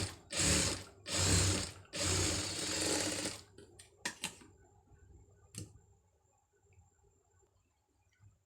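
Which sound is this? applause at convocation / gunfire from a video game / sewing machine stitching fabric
sewing machine stitching fabric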